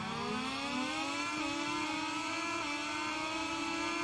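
In the MotoGP 21 video game, a Moto2 racing motorcycle engine revs at the race start, holding a high, droning whine that climbs slightly in pitch, steady and prominent with no voices.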